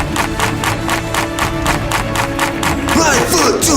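Children clapping hands in unison at a children's ministry session, a steady run of sharp claps over a background of music and crowd noise, with a sweeping musical effect near the end.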